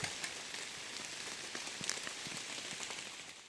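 Rain patters steadily in a forest, with close drops ticking on leaves and surfaces over a continuous soft hiss, no voices.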